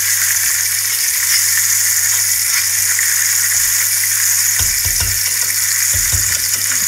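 Mint and coriander leaves sizzle steadily in a hot pan for prawn biryani, with a constant frying hiss and a few stirring scrapes near the end.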